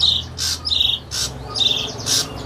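Caged songbird at a bird market sings in loud, close bursts of sharp squawking chirps, about four phrases with short gaps, over low background murmur.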